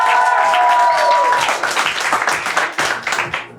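Loud applause and clapping from a concert audience greeting a DJ, dense and sustained throughout, with a bright tonal note fading in the first second and the clapping thinning slightly toward the end.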